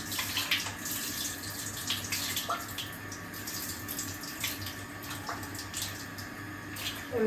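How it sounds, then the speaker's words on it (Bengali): Lentils and broken wheat being rinsed under a running kitchen tap, a steady faint splash and trickle of water with occasional small knocks and clinks throughout. "ডাল আর ডালিয়াটা পরিমাণ মতন নেওয়া হয়ে গেছে ওটাকে একটু ধুয়ে নিচ্ছে"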